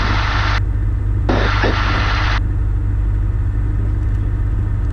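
A Robin light aircraft taxiing on the runway, a loud steady engine drone heard from inside the cabin with a broadband hiss that comes and goes, no speech.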